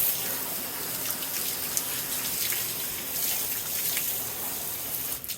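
Water runs steadily from a tap over raw alligator gar meat being washed, a constant close hiss with small splashes and no talking.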